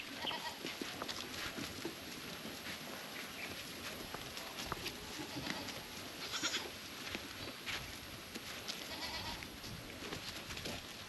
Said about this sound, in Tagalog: nabigyan na natin ng feeds ulit yung mga kambing natin na may halong King's Vita Plus na vitamins